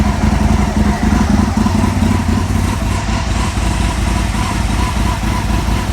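An Aprilia motorcycle engine runs at a steady idle during fuel tuning, with a light rhythmic clatter underneath. It is close and even throughout, with no voices.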